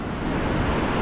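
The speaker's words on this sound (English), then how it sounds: "there's a lot of waves" Ocean surf on the Indian Ocean coast near the Congo River, a continuous broad wash of breaking waves with wind rumble on the microphone, steady and fairly loud without speech.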